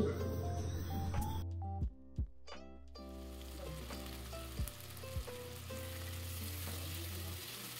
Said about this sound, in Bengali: মশলাটা এইভাবেই আমি 10 থেকে 15 মিনিটের জন্য কষিয়ে নেব।